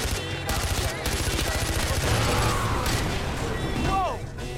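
Rapid automatic gunfire from a gun mounted under a vehicle's dashboard in the video game Far Cry 4, loud sustained bursts with engine rumble beneath and a brief whistling sound near the end.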